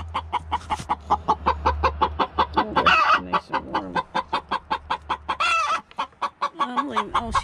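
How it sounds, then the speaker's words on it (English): A broody hen and other chickens cluck in a rapid, steady run of close, loud clucks. A couple of longer squawking calls break in partway through. "I have one hen still sitting."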